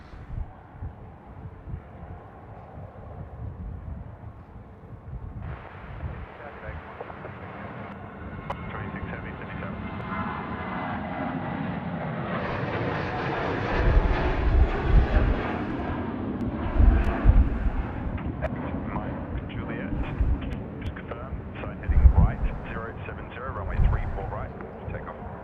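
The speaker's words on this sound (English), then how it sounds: "Jetstar A320 now, rolling runway 34 right, rather" A Jetstar Airbus A320 rolls for takeoff on runway 34R at Sydney Airport, its jet engines building into a broad, rising roar that swells and rumbles over about twenty seconds, heard from a distance.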